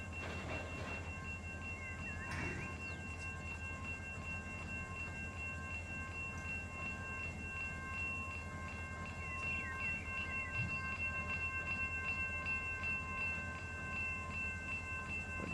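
A freight train in the Run 8 simulator rumbles steadily past a level crossing on a BNSF/UP line, its low continuous roar running throughout with faint metallic squeals and clicks over the top, and no voices.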